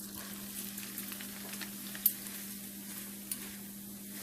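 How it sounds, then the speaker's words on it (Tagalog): Rice stick noodles fry in hot oil, giving a faint, steady sizzle with a few small pops and one sharper crackle midway, heard alone with no talk. "Kailangan talaga mainit na mantika para diretso siya mag-pop."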